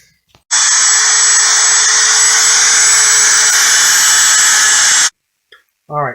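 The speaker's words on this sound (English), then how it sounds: "you just take a Dremel and you just cut a notch out of it" A Dremel rotary tool cuts a notch in a loud, steady high-pitched whine lasting several seconds, then stops abruptly, followed by a brief voice.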